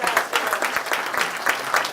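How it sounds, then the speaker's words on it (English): An audience clapping together at an evening fashion event, a brisk, fairly loud patter of many hands that keeps a steady rhythm without pause. "Clap for him, applaud,"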